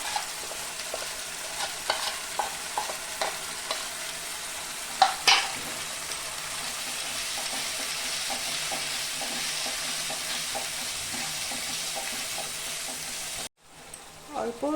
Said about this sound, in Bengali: মশলাটা আমি ভালো করে ভেজে নিব